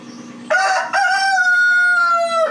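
A rooster on a homestead gives one loud, close crow, a sharp rising call that holds a long drawn-out note, alone without talk.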